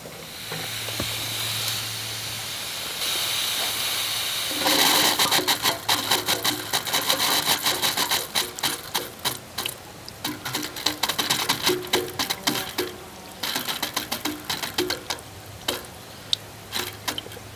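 Trapped air hisses out of a loosened fitting on a four-nozzle off-grid micro hydro Turgo turbine manifold, a steady spraying hiss that turns into sputtering, gurgling bursts as water follows, with no talk.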